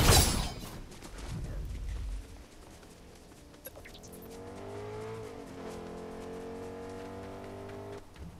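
A car in Fortnite gameplay starts with a loud burst of tire noise, then a steady engine hum and rising rev tone follow, moderately loud with other game sounds in the background.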